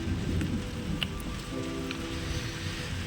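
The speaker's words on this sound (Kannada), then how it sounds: "ನಿಧಾನಕ್ಕೆ ಮಳೆ ಬರ್ತಾ ಇದೆ," Light rain falls steadily in a rural village in the Shivamogga area during the season's first shower, a soft continuous patter with a few brighter drop ticks and a faint low rumble underneath.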